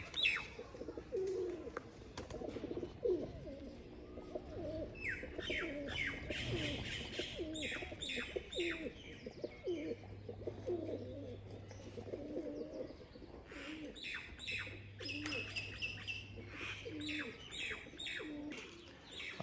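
Pigeons kept in netted enclosures coo and chirp steadily, soft low calls repeating alone at close range with no voices.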